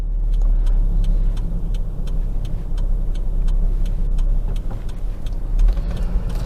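Inside a 2000 Toyota Estima Aeras L V6 AWD van on a short test drive, a steady road and engine hum runs throughout with faint ticking clicks, and no one talks.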